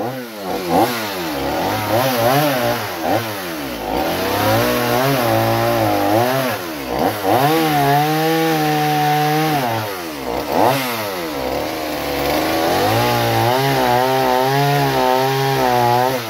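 A chainsaw rescued from the bin and fitted with a Chinese replacement carburettor runs loud and close, revving up and down repeatedly between idle and high throttle with no voices.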